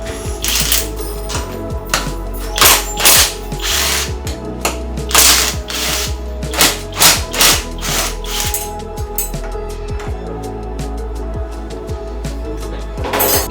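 A ratchet wrench clicks rapidly and loudly up close while the upper strut mounts are removed from a totaled Honda Civic Type R, in repeated bursts of ratcheting with short pauses between them.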